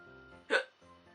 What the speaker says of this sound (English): I need to hiccup.